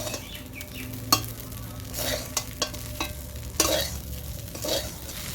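Flattened rice pulao (chire) is stirred gently in a pan, giving soft scraping strokes and light taps of the spoon over a quiet, continuous sizzle, with no talking.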